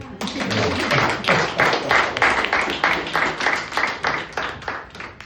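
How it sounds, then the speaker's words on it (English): An audience at a partner appreciation and awards celebration applauds, with many hands clapping in a fairly regular rhythm of sharp, closely spaced claps that stays loud and even for several seconds. "Can we get a round of applause for that?"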